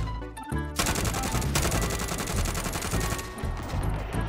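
Sustained automatic gunfire in Warzone, loud rapid rattling bursts that run almost without pause, dense and close, after a brief quieter moment at the start.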